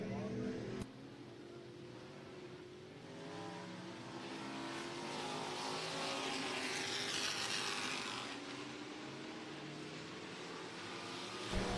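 Open-wheel modified race cars set off at speed on a raceway for hot-lap qualifying, a dense roaring engine drone that swells as the cars accelerate, a sharp bang at the start and crowd or announcer noise underneath.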